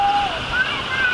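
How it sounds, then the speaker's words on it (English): Steady rushing water at the end of a resort river pool at the Hilton Grand Vacations Kings' Land pool in Waikoloa, Hawaii, a continuous broadband flow under faint voices and thin high tones. "Here's the end of the river pool."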